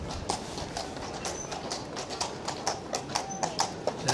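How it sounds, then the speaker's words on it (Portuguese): Hooves of a horse pulling a tourist carriage clip-clop along the streets of Bruges in a steady, even rhythm, fairly close and clear over low street ambience. "Olha, tem passeio de carruagem."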